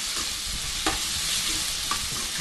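Tomatoes cook in a pan with a steady close sizzle and occasional stirring scrapes, continuous and moderately loud with no voices.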